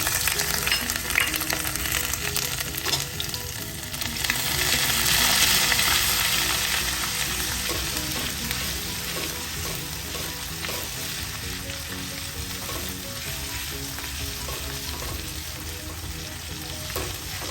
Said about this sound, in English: So as the ginger starts cooking and turning a little light golden brown